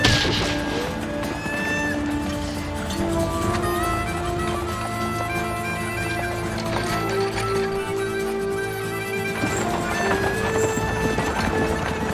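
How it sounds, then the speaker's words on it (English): A horse in a science fiction western gallops with dense, continuous hoofbeats and neighs, loud and close, under a full dramatic musical score. "Oh, no, not the horse."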